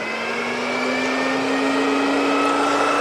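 A Vortex RV roof vent fan runs steadily in exhaust mode, giving a constant whirring hum with a tonal whine, close and even throughout with no talking.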